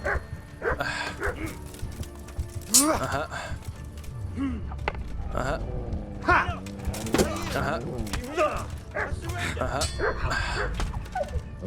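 A dog barks, yips and whimpers in a fight within the video game Kingdom Come: Deliverance, with repeated sharp barks and clanking combat sounds amid a busy mix, while someone talks over it.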